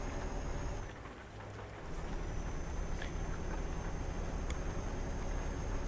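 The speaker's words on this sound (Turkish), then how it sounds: "Aha yağmur da başladı." Steady rain in Euro Truck Simulator 2 hisses continuously with a faint low rumble beneath, a few sharper ticks scattered through, even and moderately loud.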